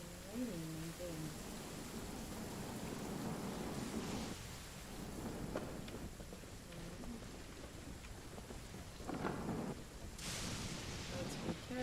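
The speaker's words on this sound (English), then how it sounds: "And it's raining and things." Rain falls steadily in the video game Genshin Impact while thunder rumbles in low rolls and a sharp crack, all faint and under a voice talking.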